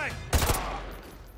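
A single loud gunshot in Call of Duty: Modern Warfare 2 Remastered, a sharp close crack with a short echoing tail afterward.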